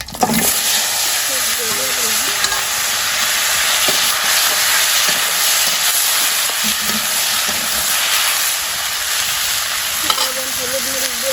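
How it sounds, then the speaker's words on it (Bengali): Bay leaf and cumin crackle in hot oil with a loud, dense, continuous sizzle, and a few faint knocks sound beneath it. "তেজপাতা জিরা ফোড়ন দিয়ে দিই।"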